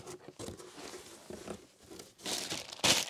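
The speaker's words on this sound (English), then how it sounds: "Plastic bag." A plastic bag crinkles and rustles up close while a vacuum cleaner accessory is unboxed, in several short irregular bursts, with the loudest crackle near the end.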